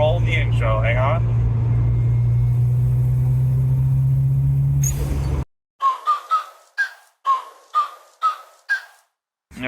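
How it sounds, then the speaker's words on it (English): A car engine under a boost pull with a manual boost controller, a loud steady low drone that climbs for about five seconds and then cuts off, followed by a run of short rising whooshes with pauses between them. "Let me do a quick boost pull for you guys,"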